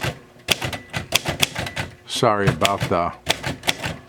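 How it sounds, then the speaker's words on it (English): Typing on a 1947 Royal Arrow portable typewriter with a dry ribbon: sharp, close key strikes in an uneven rhythm, with a short stretch of talk in the middle of the keystrokes. "let's do a quick little typing test"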